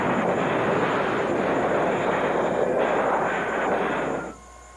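A Grumman A-6 Intruder jet powers out of a missed carrier landing in a touch and go, giving a loud, steady roar of engine noise that holds for about four seconds and then cuts off sharply.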